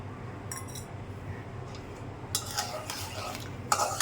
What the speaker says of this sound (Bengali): কারণ একটু সময় মশলাটা ভুনতে হবে।